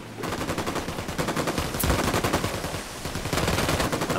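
Dense automatic gunfire from Ghost Recon Wildlands, played with a first-person mod, rattles in rapid, continuous bursts. It is loud and close, with one heavier crack standing out partway through.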